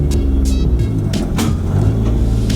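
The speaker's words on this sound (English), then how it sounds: "I'm actually surprised at how well this motor just idles" A Lexus SC300 engine idles steadily while the car creeps onto ramps, a loud, close, low rumble with a few brief higher scrapes and knocks over it.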